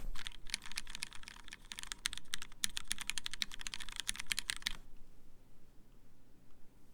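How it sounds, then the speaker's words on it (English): Rapid, dense clatter of typing on a computer keyboard, close and steady for several seconds, then stopping abruptly into quiet room tone. "done with the typing sounds"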